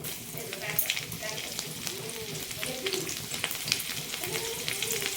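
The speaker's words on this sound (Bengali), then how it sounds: "এখানে তেল যেটা পকোড়া ভেজেছিলাম ওই তেলটাই কিছুটা তুলে নিয়েছি আর কিছুটা আছে এতেই দিয়ে দেবো এবার রসুন কুচি" Chopped garlic frying in hot oil reused from frying pakoras, for restaurant-style chili chicken: a continuous close crackling sizzle, with occasional stirring and a faint voice in the background.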